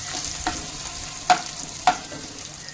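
Potato slices with green chillies fry in hot oil, a soft steady sizzle broken by a few sharp stirring scrapes and clicks, close and fairly quiet.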